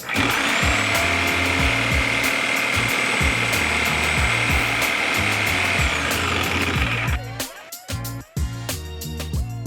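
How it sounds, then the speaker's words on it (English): Circular saw cutting through a wooden pallet, a loud sustained whining buzz with a steady chugging motor pulse, then the blade spins down and the saw clatters as the cut ends. "which tool do you like better to cut the pallet? The skill saws can't go as deep."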